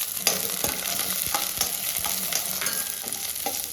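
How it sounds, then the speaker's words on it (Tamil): Small onions sauté in hot oil with chillies for guava chutney, a loud, close, steady sizzle with frequent rhythmic spatula scrapes against the pan. "சின்ன வெங்காயம் பச்சை வாசம் போகிற வரையும் வதக்கி விடணும்."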